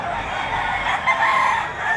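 A rooster crows at the Padre Garcia livestock auction market in Batangas, one drawn-out, loud, close crow lasting the whole moment amid faint market bustle.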